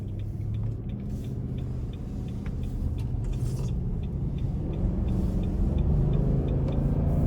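A 2021 Nissan Armada Platinum pulls hard out of a corner, a steady low engine rumble that builds gradually in loudness, with faint tire and road noise on top and no voices.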